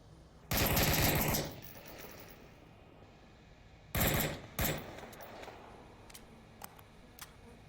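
Gunfire in the VR shooter game Onward during a competitive match, a loud sustained burst of automatic fire, then two shorter bursts a few seconds later, followed by faint scattered shots.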